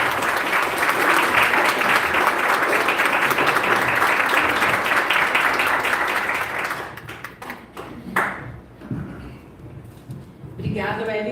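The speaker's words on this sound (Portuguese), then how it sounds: "Eu gostaria que todos vocês recepcionassem a nossa palestrante com uma salva de palmas bem forte" Audience giving a speaker a strong round of applause at a lecture, loud dense clapping that holds for about seven seconds, then thins to scattered claps and fades as a voice begins speaking.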